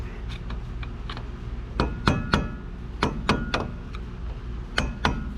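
Repeated light metallic taps of a screwdriver against the front hub cap of a 1998 Mazda B4000, irregular clinks in small clusters, close and crisp over faint background noise.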